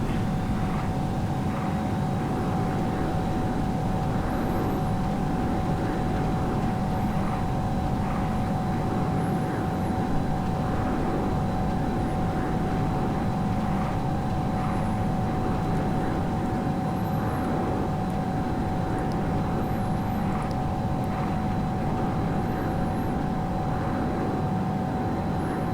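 Steady, loud roar of a simulated Boeing 777-200LR's engines in reverse thrust braking on landing in FlightGear, a dense continuous rumble with a faint high whine, unbroken throughout.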